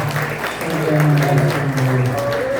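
A church congregation at a birthday celebration service applauds briefly while a voice speaks over the clapping.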